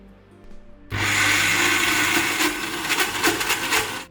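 A kitchen mixer grinder whirs into motion while grinding thick medu vada batter with only a little water, a loud steady motor roar starting abruptly after a short quiet moment and running on with slight fluctuations.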